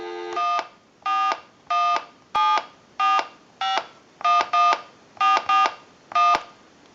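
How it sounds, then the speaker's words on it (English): A rapid series of about a dozen electronic touch-tone beeps from a lineman's butt set, evenly spaced, some in quick pairs, loud and clean against a quiet line. "Give you some dial tone with amplification, and we'll make that call."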